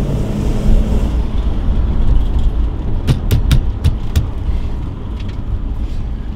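A Mercedes E500 W124 fitted with a street-legal exhaust rumbles with a deep, steady engine drone, with a few sharp clicks in the middle.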